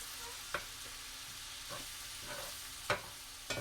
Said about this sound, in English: While I melt this butter in this one corner.